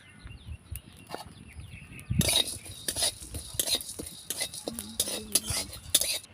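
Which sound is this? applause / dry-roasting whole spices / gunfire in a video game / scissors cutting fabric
dry-roasting whole spices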